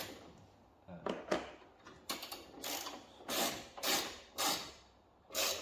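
A ratchet tightens bolts on a Summit front strut brace atop the strut towers of a Toyota GT86, giving a series of close, crisp clicking bursts in an irregular rhythm with short pauses between strokes.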